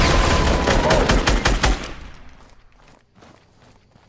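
Gunfire in the battle royale game Fortnite, a dense burst of rapid shots loud and close for the first two seconds, then fading to sparse softer pops and faint movement.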